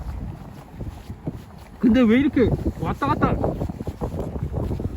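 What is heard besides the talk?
strong wind outdoors while flying RC airplane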